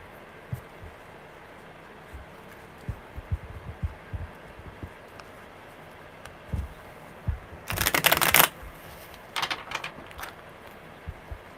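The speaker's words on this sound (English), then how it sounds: "Very good shuffles today." Tarot cards shuffle in soft, scattered riffles and taps, faint and close, with a denser burst of flicking around the middle and a few more shortly after.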